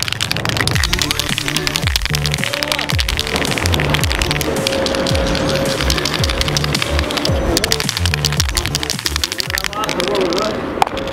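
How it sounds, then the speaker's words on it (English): A spray paint can rattles steadily as it is shaken, its mixing ball clicking in a fast, continuous rhythm for several seconds, fairly loud and close. "we just need to shake it"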